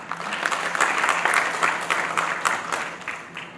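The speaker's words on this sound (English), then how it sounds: "please clap." Audience clapping at a camera launch event, a steady burst of many hands from a seated crowd that stays fairly even before tapering off at the end.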